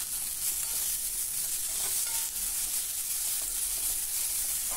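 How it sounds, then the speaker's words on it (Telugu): Tomato, ginger and green chillies fry in a pan while being stirred, a steady close sizzle with soft scraping stir strokes and no voices. "ఇలా కలుపుతూ వేపుకోండి."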